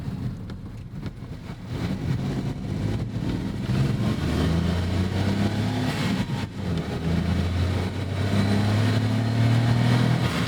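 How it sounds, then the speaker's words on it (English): A turbocharged 2019 Honda S660 Modulo X accelerates hard, its small engine droning and climbing through rising tones as the turbo spools, loud and steady from inside the car with no talking. "Turbo spoolie boy noises. Now, even though it's turbocharged,"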